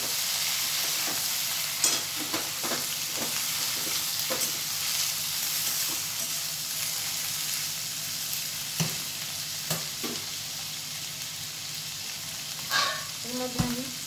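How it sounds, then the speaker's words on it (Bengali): Boiled ivy gourd (kundri) sizzles and fries in a pan, with a steady hiss broken by repeated scraping stirs and clinks of the spatula. "আমি এবারে এর মধ্যে সেদ্ধ করা কুঁদরিগুলো দিয়ে দিলাম।"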